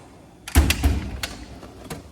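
A drawer on a Cornwell tool box rolls open with a sudden thunk and a rattling slide, then a few lighter clicks and knocks as it settles.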